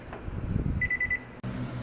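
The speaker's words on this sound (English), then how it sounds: "There's the beeping sound. It's gonna turn off the oven automatically." A built-in electric oven's timer sounds a quick run of about six short, high, evenly spaced beeps at the end of cooking, moderately loud over low background noise.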